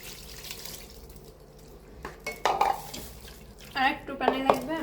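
Tap water splashing into a bowl of mashed chickpea mix, a couple of short bursts of running water near the mic after a quiet stretch, with soft clatter.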